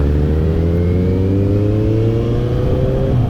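Kawasaki Z800 motorcycle engine revving up loud and close, a steady rising drone with clear harmonic tones that climb slightly throughout, no talking over it.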